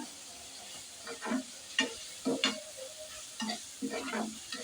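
Onions for an egg fry sizzle softly in a pan, a faint hiss under several gentle scraping stirs spaced across a few seconds, with no voices.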